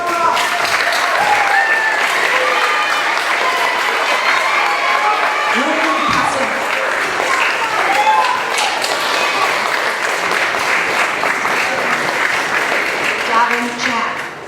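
A crowd of children and adults claps and cheers for certificate recipients at a school awards ceremony. The applause is loud and sustained, with shouts and chatter mixed in throughout.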